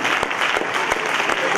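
A church congregation applauds during a French-language service, steady rapid clapping filling the space with a few sharper claps standing out, a voice faintly present underneath.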